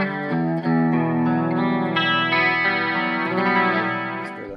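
Enya Nova Go Sonic carbon fiber electric guitar played through its built-in speaker with a chorus effect: sustained, shimmering chords ringing close and loud with a swirling, doubled tone, changing chords every second or so.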